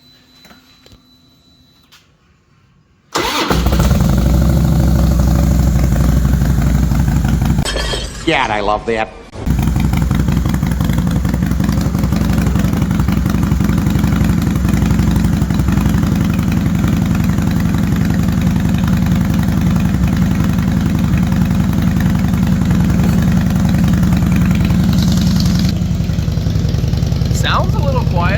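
A Harley-Davidson motorcycle, newly bought and repaired, fires up after near silence and settles into a loud, steady, rumbling idle close by, with a brief stumble early on and someone speaking briefly over it.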